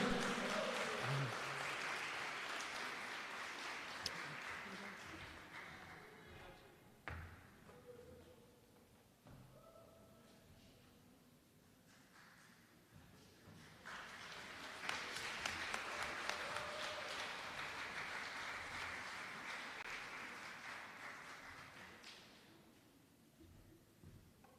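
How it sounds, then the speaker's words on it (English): At the ACC students' recognition ceremony, faint, distant audience applause rises in two separate bursts, with a quieter gap between them. "Let's give Janae a round of applause."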